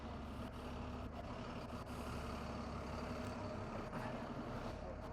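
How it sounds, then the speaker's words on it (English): A big truck rumbles past cyclists on an Amsterdam street, a low, steady engine drone close by and fairly quiet, with no voices. "Sometimes it gets a little tricky with the big trucks."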